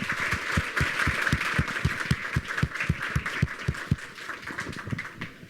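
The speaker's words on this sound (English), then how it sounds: "So I want to give a big round of applause to Hussein." Applause at an academic conference panel, with a modest audience clapping steadily for several seconds, the claps individually audible, fairly quiet and sounding from a short distance.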